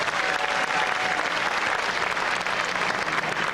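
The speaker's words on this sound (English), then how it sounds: "Let's have a round of applause for them." Audience at a Ms Senior DC pageant claps steadily in a dense, continuous burst of applause, loud and even throughout with no pauses.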